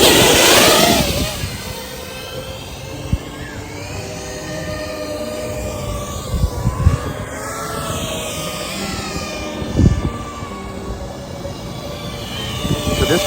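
A Diatone Roma F5 FPV quadcopter carrying a GoPro flies fast, its motors a loud, shifting whine that rises and falls in pitch through punch-outs and passes, with occasional wind buffeting.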